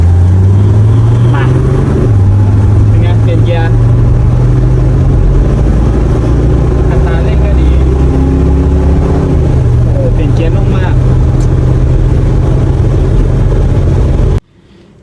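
Red Mercedes SL Pagoda engine pulls hard and loud from inside the car, rising in pitch through each gear and dropping at two clear shifts, with a steady mechanical roar throughout.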